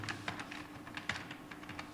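Quiet, steady clatter of keys on a computer keyboard while words are entered into a document, with irregular taps and a few sharper presses, close and alone.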